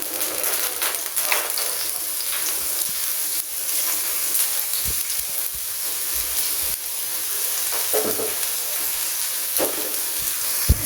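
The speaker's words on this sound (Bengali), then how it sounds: "পরিমাণ মতো তেল অ্যাড করে দিলাম। দিয়ে দিব পেঁয়াজ আর রসুন।" Onion and garlic fry in oil in a pan for a Bengali kalmi greens and shrimp dish, giving a steady, fairly loud broadband sizzle throughout with a few brief stirring scrapes and no talk.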